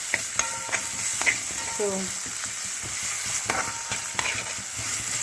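Tomato pickle tempering frying in a pan, a steady close sizzle with clicks of a stirring spoon scattered throughout, and a brief spoken word at one point.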